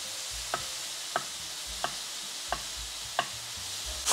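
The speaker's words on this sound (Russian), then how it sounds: "Сыр нарезаем прям кубиками." A knife cuts cheese into cubes on a board in a home kitchen. Five crisp, evenly spaced knocks come about every two-thirds of a second over a faint background hiss of frying.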